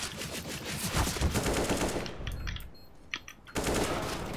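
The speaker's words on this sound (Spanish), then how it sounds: "Le disparo al compañero." Rapid bursts of automatic gunfire in CS:GO on the Overpass map rattle loudly, pause briefly with a few scattered shots, then resume in a sustained stream.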